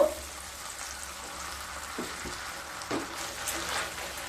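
Chilli chicken sauce with tomato sauce and vinegar simmering in a pan, a steady low sizzle with a few soft stirring scrapes and clinks partway through.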